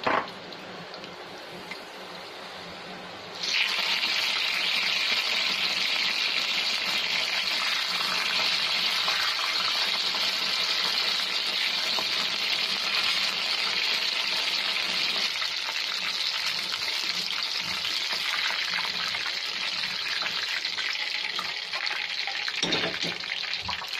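A batch of mushrooms is dropped into hot oil for mushroom Manchurian and sizzles loudly and continuously, a dense crackling hiss that starts abruptly after a quieter moment.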